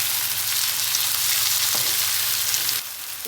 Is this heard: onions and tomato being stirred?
yes